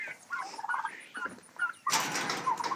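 Bourbon Red turkeys on a homestead gobble in a few quick rattling bursts, fairly close, with a louder, denser gobble near the end and no talking.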